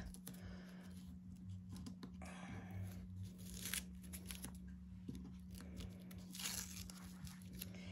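Adhesive tape is peeled off a 6x10 satchel bag in a series of faint, close crackling rips and rustles over a steady low hum, with no talking.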